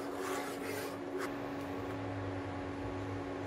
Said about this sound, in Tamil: ரவையை சேர்த்துட்டு நல்லா கிண்டி விட்டுக்கலாம்.